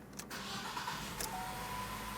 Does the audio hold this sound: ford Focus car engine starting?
yes